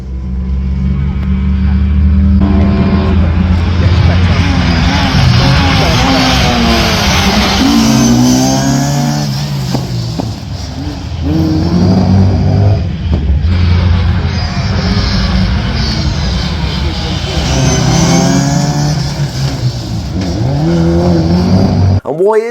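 Classic Mini rally car racing through chicanes on a stage at Goodwood, its engine loud and close, revving hard, rising and falling through repeated gear changes and throttle lifts, with a voice talking over parts of it.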